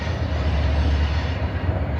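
A train rumbles past close by on a desert railway track in Arizona, a loud, steady low roar with no pauses or voices.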